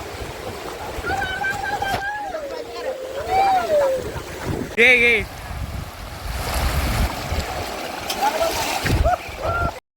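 People wade across a small river fed by mountain waterfall water, with rushing water and splashing close by, excited shouts and voices over the flow.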